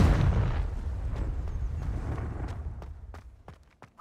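A Confringo fire spell explodes in Hogwarts Legacy on PS5, a loud booming blast that decays into rumbling debris, followed by a few sharp crackling impacts near the end.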